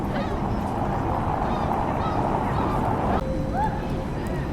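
Geese honking in Helsinki, a few short calls heard over steady outdoor background noise, with one clearer honk near the end.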